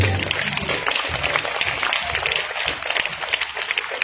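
Applause from the audience at a grand charity welfare event, a continuous wash of many hands clapping with a rumbling low undertone, steady and moderately loud throughout.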